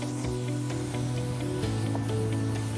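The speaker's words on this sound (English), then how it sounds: "We spray it with a contact glue." A continuous hiss of contact cement being sprayed onto a sheet for a deer blind wall, heard inside a workshop over steady hum and drone.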